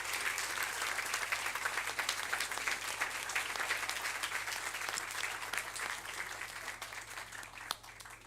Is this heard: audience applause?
yes